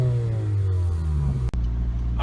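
A 2011 Honda CR-Z engine revs with a harsh, unmuffled straight-pipe exhaust note, muffler removed, the pitch sliding as it climbs, then a brief cutoff before it rumbles on.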